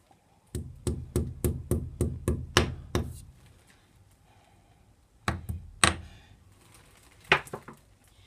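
Sharp metallic hammer blows on a punch strike in a quick steady run of about nine, then after a pause a few more scattered strikes, close and loud, during sewing craft work.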